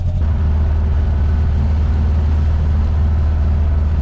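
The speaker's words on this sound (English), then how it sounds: "now we're taking the car on a test ride. Maybe a bit loud" A Volkswagen car engine drones loudly and steadily from inside the vehicle on a test drive in fourth gear, a constant low rumble with road noise and no voices.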